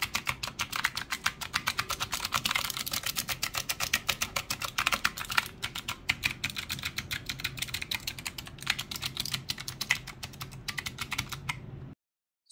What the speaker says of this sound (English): let's go ahead and test out the noise levels